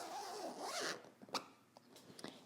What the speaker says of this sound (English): close our zipper.